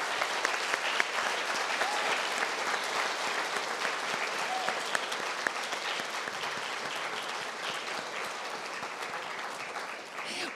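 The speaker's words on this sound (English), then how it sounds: "a round of applause for these seven speakers" Sustained applause from a large audience at a talk event on artificial intelligence, a dense, even roar of clapping lasting over ten seconds, full and steady with only a slight dip near the end.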